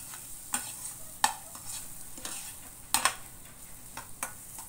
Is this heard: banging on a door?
no